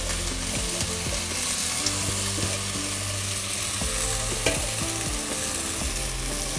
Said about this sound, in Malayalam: മുരിങ്ങ നന്നായി ഒന്ന് വാടി വരാൻ വേണ്ടിയിട്ട് ചേർത്ത് കൊടുക്കാം